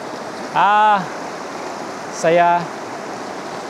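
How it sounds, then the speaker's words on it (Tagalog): A strong creek current rushes at Camp Pebble Creek in Mayantoc, Tarlac, making a steady, loud wash of flowing water throughout. A voice speaks briefly twice over it. "Ganyan kalakas yung agos."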